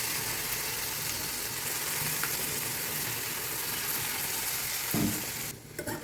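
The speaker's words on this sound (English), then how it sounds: "And just add it in your hot sizzling pan." Raw banana slices fry in a hot pan, giving a loud continuous crackling sizzle, with a brief stirring clatter near the end.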